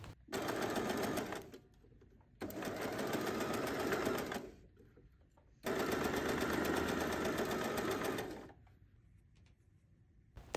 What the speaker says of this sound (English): After you're done, sew all the way.